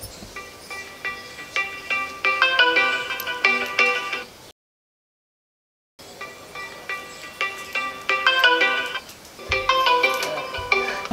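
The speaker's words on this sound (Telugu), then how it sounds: "ఏందే చెల్లె ఊకే ఫోన్ వస్తుంది" A phone rings with a bright melodic ringtone in short repeating phrases, cuts out briefly, then rings again, loud and close with no talk over it.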